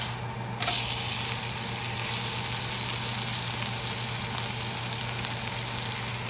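Steak sizzles steadily in a hot pan just after being flipped, a continuous close frying hiss that holds at an even level throughout with no talking.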